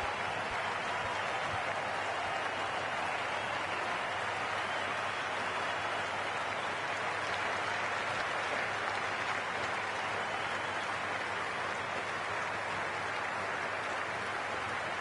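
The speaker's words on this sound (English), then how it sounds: "already the crowd is up and about" A stadium crowd at a cricket video game match between India and Australia in a World Cup final sends up a steady, roaring wash of cheering and applause, loud and unbroken across the whole stretch with no talk.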